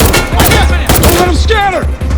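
Gunfire erupts during a police SWAT raid, sharp loud bursts mixed with shouting voices and chaotic commotion, close and dense throughout.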